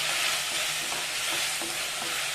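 Bitter gourd frying in hot oil in a pan for a Malnad-style palya, giving a dense, steady sizzle throughout with occasional soft scrapes of stirring and no voices.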